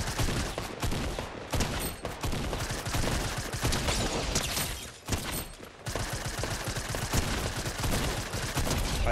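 Gunfire in Fortnite OG on Nintendo Switch: dense, continuous bursts of rapid automatic shots with brief pauses, loud and close throughout.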